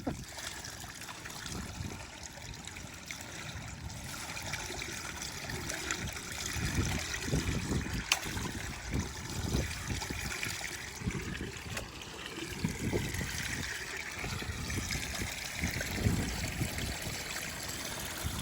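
Water running and trickling down an outdoor gully, a steady broadband wash with some louder gurgling surges, fairly close, with no talk over it.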